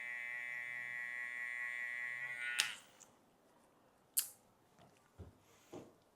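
An electric hair clipper buzzes steadily with a bright, even whine while cutting hair during a skin fade, then shuts off and leaves a few soft clicks and handling knocks in the quiet that follows.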